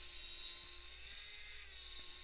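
A small hobby drill runs steadily with a thin high whine and faint buzz, fairly quiet and continuous, with no voices.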